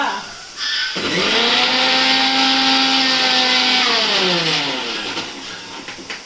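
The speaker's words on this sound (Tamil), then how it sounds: "அரைக்கத்தான் போறேன்" A mixer grinder whirs up loudly from a standstill, holding a steady high whine for a few seconds before winding down, close by and with no one talking over it.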